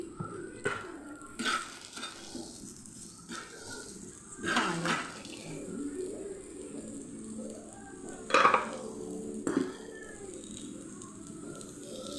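Onions tipped into a pan for a restaurant-style curry base gravy and stirred, heard as intermittent clanks and scrapes of a utensil on metal over a low, steady background, close and moderate in level.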